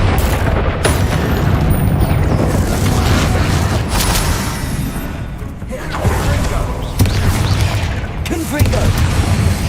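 Bombarda and Confringo spell explosions in Hogwarts Legacy gameplay, a rapid string of loud booms and bursts with heavy low thuds, repeated over several seconds beneath spoken incantations.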